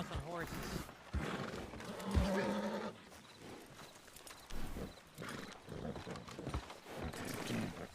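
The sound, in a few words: horses neighing and moving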